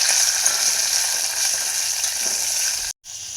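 Onions with curry leaves frying in hot oil in a home kitchen, a loud close crackling sizzle that runs steadily, broken by one brief silent gap near the end.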